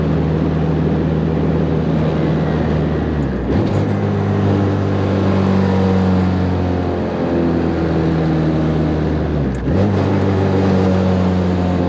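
A loud turbocharged B20 car engine hums close up while driving hard, climbing steadily in pitch through each gear before dropping sharply at two gear changes.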